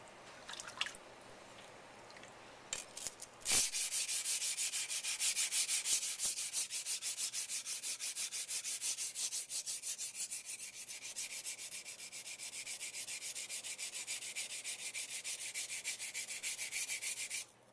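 A yanagi knife being sharpened on an Imanishi 220 whetstone: a quiet start, then steady rhythmic wet grinding strokes scraping back and forth, close and continuous to the end.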